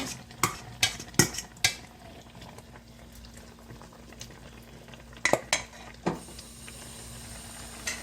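Seasoned pork goes into a pot of kimchi stew and gets stirred, with sharp clinks and scrapes of a spoon against the pot in clusters over a low, quiet bubbling.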